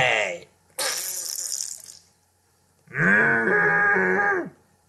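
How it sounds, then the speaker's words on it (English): A cartoon fart made by a voice, a long buzzing, wavering blast near the end that follows a burst of hissing noise, loud and close, alongside character voices. "Why the hell are you farting"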